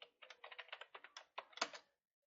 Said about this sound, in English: Type in my password.